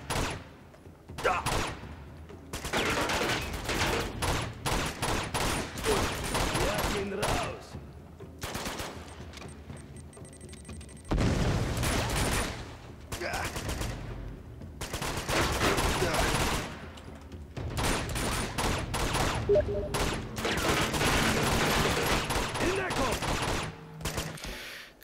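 AK assault rifle fire in Uncharted 2, long rapid bursts of automatic gunfire in repeated volleys with short pauses, loud and close, with someone shouting briefly among the shots.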